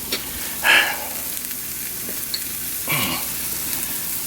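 Olive oil sizzles steadily in an egg skillet warming on the stove, a loud continuous frying hiss with two brief swells of crackle and scraping, no voices.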